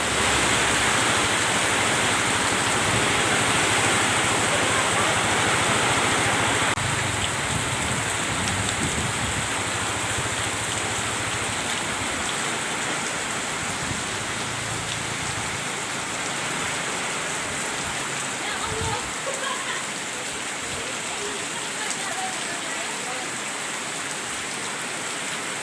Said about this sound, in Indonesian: Ya, hujan lebat.